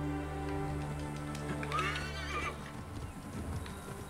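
In the video game Assassin's Creed Origins, a horse gives a clear whinnying neigh over galloping hoofbeats, set against a steady hum of in-game ambience.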